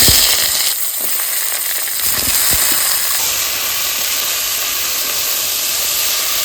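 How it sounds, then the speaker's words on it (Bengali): Black cumin seeds crackle as they hit hot oil in a pan with a loud sharp hiss. Vegetables then drop in and the sound settles into a broad, steady sizzle. "তেল দিয়ে দিচ্ছি কালো জিরাটা ফোড়ন দিয়ে দিচ্ছি এইবার সবজিটা ছেড়ে"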